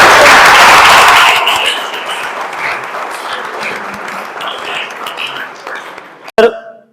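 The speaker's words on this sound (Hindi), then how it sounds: "तालियों की गूंज के साथ" Audience applause for guests at an event at a Franciscan friary in Karachi, loud and dense at first, then thinning to a softer patter that fades out, ending in a brief sharp knock.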